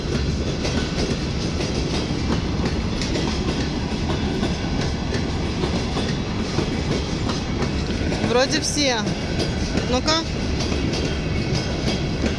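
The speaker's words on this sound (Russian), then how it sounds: "Электричка едет." Electric commuter train passing in Riga, Latvia, with a steady loud rumble and clickety-clack of wheels throughout, plus a brief high squeal, while a person speaks briefly.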